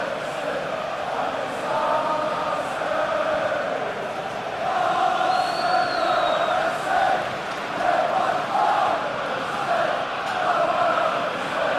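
A stadium crowd in a PES 2026 Premier League match between Arsenal and Fulham roars in a continuous, swelling wash of cheers and chants, with a few louder surges and no commentary over it.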